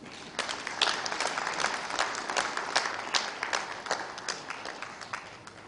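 Applause from an audience fills the whole stretch, steady and moderately loud with dense overlapping claps and no voices heard.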